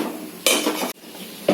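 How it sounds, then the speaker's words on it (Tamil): A spoon scrapes and clinks against a pot while a sweet mixture is stirred on a low flame, with a short burst of metallic scraping in the middle and a brief knock at the end. "இந்த மாதிரி கிளறி விட்டுட்டே போடுங்க, அப்போ தான் கட்டி ஆகாமல் இருக்கும்"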